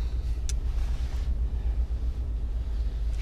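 Truck engine idling with a low, steady rumble while backing up into a trailer, constant and fairly close, with one brief sharp click near the start.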